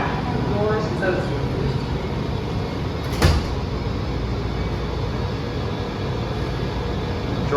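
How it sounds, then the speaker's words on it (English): Metro train doors at Georgia Avenue station on the Yellow Line open with one short thud over the steady rumble of the train and station. "Step back, doors open."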